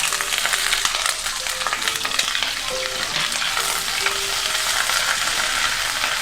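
Grated ginger frying in hot oil with whole spices for a Bengali cauliflower rezala, a steady, close, loud sizzle with faint stirring scrapes throughout and no voices.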